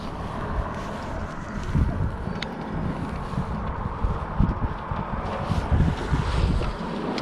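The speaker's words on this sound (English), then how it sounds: "It is so windy up here. Too windy. Too windy. It says some strong gusts going on." Steady, blustery wind buffets the microphone with strong rumbling gusts rising and falling, loud and close, with no clear voices, up high at an off-grid cabin.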